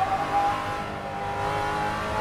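A Ford Mustang Shelby GT350R's engine pulls hard on a race track at Tsukuba, a loud close droning roar with a high whining tone, running alone without speech.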